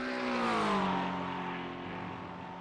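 A race car in a TORQ Sports Car Series race at Road America passes at speed, its engine note falling in pitch as it pulls away, moderately distant and steady.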